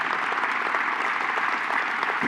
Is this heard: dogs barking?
no